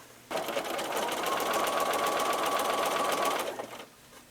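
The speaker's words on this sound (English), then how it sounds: "So I'll continue and sew the other two together, and then I will sew the final seam across." A sewing machine runs a quilt block seam for a Hunter's Star quilt block, a loud steady mechanical whir lasting about three seconds before stopping, with no talk.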